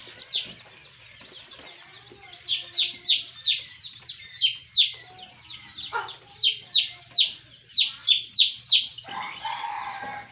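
Local chicks chirp loudly while being held for their first vaccine, a rapid run of sharp, high peeping calls close up, with faint handling noise and a brief rustle near the end.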